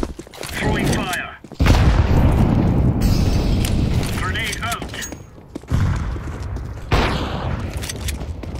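A thrown incendiary grenade in Counter-Strike goes off with several loud, booming bursts and crackling fire over gunfire, with players talking through it.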